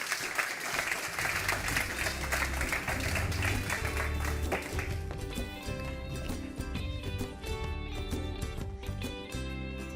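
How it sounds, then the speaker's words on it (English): Sustained applause from a conference audience fills the room as a panel on health and sustainability walks to the stage, with dense clapping that carries over steady background music. "A round of applause, please, for them as they make their way to the stage."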